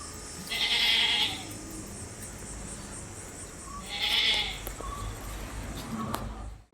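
Crossbreed female goats for sale at a livestock market bleat twice, each a loud, wavering call close by, separated by quieter background murmur and movement.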